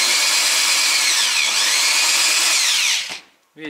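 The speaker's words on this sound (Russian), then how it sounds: "Длинными саморезами со сверлом." A power drill drives long self-drilling screws through corrugated metal sheeting on a DIY shed, giving a loud continuous high whine with a slight pitch dip midway before stopping abruptly.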